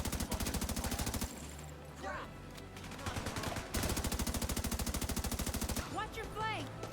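Rapid automatic gunfire in The Division 2, played on an Asus ROG Ally, comes in loud, close, sustained bursts separated by short pauses and a few scattered single shots.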